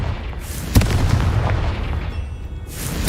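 Confringo blasting spell going off in Hogwarts Legacy, a sharp crack followed by a rolling, rumbling boom and a second burst near the end, loud and close over game ambience.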